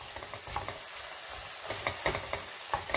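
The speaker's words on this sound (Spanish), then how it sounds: "de pimentón dulce. Vamos a mover rápido." A spoon scrapes and stirs through chicken and rice with sweet paprika in a hot frying pan, quick rhythmic strokes over a constant close sizzle, with no talking.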